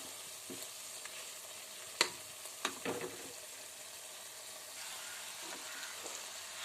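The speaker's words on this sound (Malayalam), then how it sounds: "ഇനി നമുക്ക് ഇതിലേക്ക് സോയാച്ചങ്ക് ഇട്ട് കൊടുക്കാം" Soya chunks tipped into spice masala frying in a pan, giving a steady low sizzle with a few sharp drops and stirring knocks in the first seconds, then the frying continuing alone.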